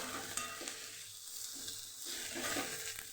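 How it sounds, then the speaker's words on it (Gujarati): Green onions sautéing in a pan over a high gas flame for a Kathiyawadi vegetable dish, a steady close sizzle and frying hiss with occasional stirring scrapes throughout. "ફાસ્ટ ગેસ ઉપર જ આપણાને સાતડવાનું છે"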